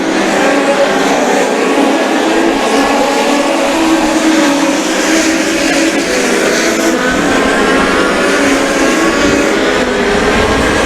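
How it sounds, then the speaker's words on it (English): US Legend race cars roar around Riverhead Raceway in a loud, continuous, dense engine drone with overlapping revving as the field circles the track. "Lap cars getting out of the way, lead traffic battling."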